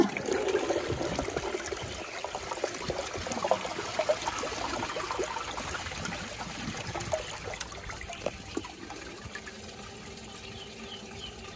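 Steady rushing and gurgling water from a 1987 Universal Rundle Atlas toilet flushing with a grocery bag in the bowl, a continuous churning wash that lasts over ten seconds and eases slightly toward the end, close and moderately loud.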